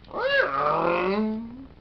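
A toy Shadow bike gives a single rising-then-falling screech with a harmonic, whiny tone, lasting under two seconds, close and fairly loud.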